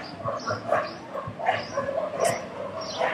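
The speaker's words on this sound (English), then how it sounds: "Them dogs don't respect you." Dogs bark and yip repeatedly down the block outdoors on a hot day, a series of short, uneven outbursts at moderate distance over street background noise.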